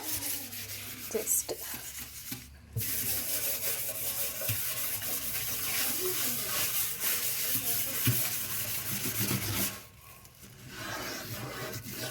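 A surface being scrubbed clean by hand gives a steady rasping, rubbing hiss that runs almost continuously, with brief pauses, and quiet speech is heard faintly at times.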